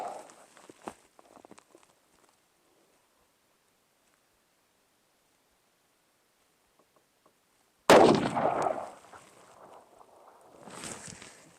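A single loud, close 7mm PRC rifle shot cracks out after several seconds of near silence, then echoes and rumbles away. Faint handling noises come before it.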